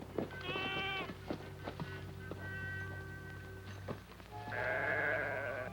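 Sheep bleat in a herd out in the Rockies, several wavering, nasal calls overlapping at varying distances, with occasional sharp taps and clatter between them and a louder, sustained bleat near the end.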